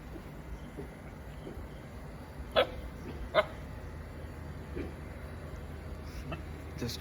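A dog barking at a distance outdoors, two short distinct barks with a few fainter ones later over steady background hum.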